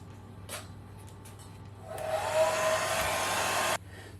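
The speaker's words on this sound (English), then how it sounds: "so just going to speed dry this for a moment." A hair dryer blowing to speed-dry watercolour paint on paper, switching on with a rising whoosh, running as a steady loud airy roar for under two seconds, then cutting off abruptly.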